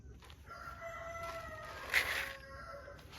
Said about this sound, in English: time to feed the chickens next